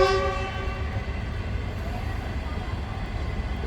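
At the station, a train sounds its horn at the start, and then a steady low rumble of the train continues, with faint voices in the background.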